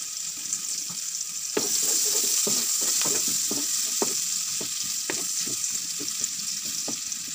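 Onion frying in butter and oil for a spicy crab pasta, a steady loud sizzle with repeated sharp clicks and scrapes of stirring throughout, no voices.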